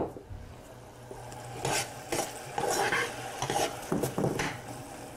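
Escargot cooks in a pan as added alcohol evaporates, a soft steady sizzle with a few scraping stirs and light pan clatter, fairly quiet and close, with no voices.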